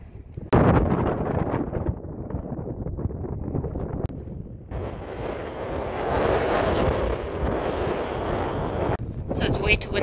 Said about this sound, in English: It's way windier up here in the mountain and it's really cold